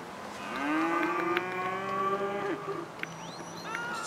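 A cow in GTA Online lets out one long, loud, drawn-out moo of about two seconds, close and clear, followed by quieter game sounds and faint whistling tones.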